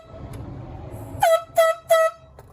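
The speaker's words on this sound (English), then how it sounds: "Biologists later tried again, using air horns to flush the bear out." Three loud, sustained air horn blasts, blown to flush a bear out of a house basement, following quieter background sounds.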